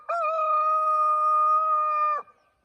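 A rooster crows once in a morning garden, a loud, close, sustained call of about two seconds with a clear tonal harmonic stack that cuts off sharply, with no talk.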